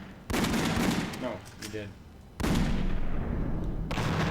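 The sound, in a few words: gunshots in House of the Dead Overkill video game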